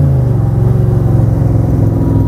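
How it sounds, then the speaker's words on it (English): A 1965 Shelby Cobra Roadster engine rumbles loudly through a downshift from third to second, a deep, continuous throaty roar with rising and falling pitch and no talk over it. "This engine is super flexible, but listen to the downshift."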